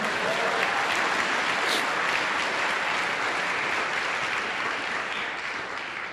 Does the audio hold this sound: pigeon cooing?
no